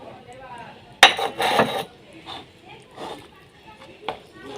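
A spoon stirs a soft, watery batter in a bowl for a quick breakfast dish, with a burst of clattering scrapes and clinks early on and lighter taps after. A voice speaks quietly underneath.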